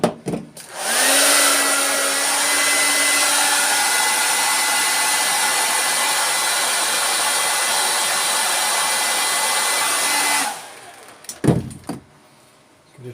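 A heat gun blows steadily and loudly on a Suzuki GS750 carburetor for about ten seconds, a continuous whooshing roar that then cuts off, followed by a few brief clicks and knocks.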